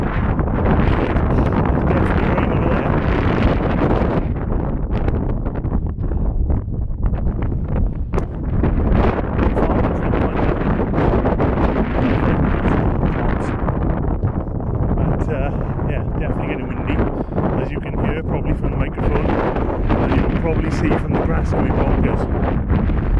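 Strong wind buffeting on the Skirrid hilltop, a loud continuous roaring rumble of gusts battering the microphone throughout, with little else audible.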